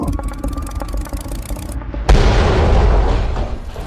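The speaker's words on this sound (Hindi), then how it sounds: "हेलीकॉप्टर क्रैश हो गया, लेकिन किसी तरह से मेहुल बच गया।" A helicopter crash explosion in a Hindi detective story: music and rhythmic hits run for two seconds, then a sudden loud boom erupts into a sustained, roaring blast that rumbles and crackles through to the end.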